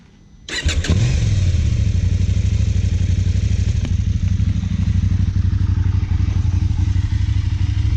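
KTM 790 Adventure R fitted with a Wings carbon and titanium slip-on exhaust with a dB killer cranks briefly and fires up, then settles into a loud, steady, throbbing V-twin idle close by.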